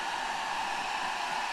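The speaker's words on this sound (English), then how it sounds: "So let's connect the hair dryer." A hair dryer runs steadily from a portable power station, giving a constant loud whooshing blow with no breaks.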